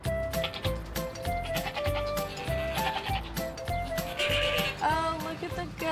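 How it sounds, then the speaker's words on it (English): A goat at a goat farm bleats repeatedly in short, wavering cries, close and clear over a busy background of rustling and scraping. "Oh, look at the goat."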